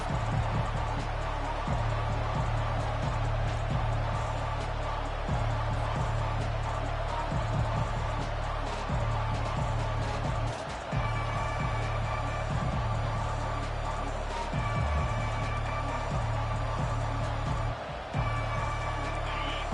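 A college football stadium crowd keeps up a loud, continuous roar, with swelling cheers under a commentator's voice.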